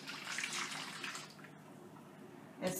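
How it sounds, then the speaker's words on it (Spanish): Water pours steadily into a flan mixture in a kitchen, a faint soft splashing stream that fades partway through, followed by a brief clatter near the end. "Y le vamos a agregar el agua."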